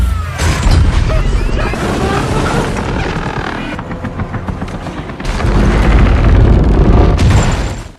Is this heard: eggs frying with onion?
no